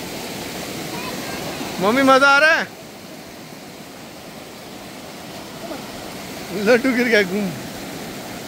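A waterfall at Yousmarg in Kashmir gives a loud, steady, broad rush that fills the whole clip, while voices talk over it in two short bursts.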